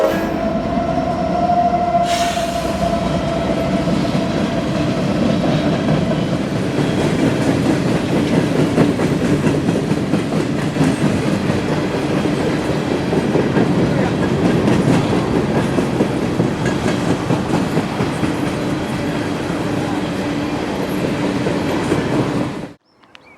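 A train rolls past close by at a siding near Harrisburg, a continuous loud roar of wheels on rails with rhythmic clatter and a faint squeal, cutting off abruptly at the end.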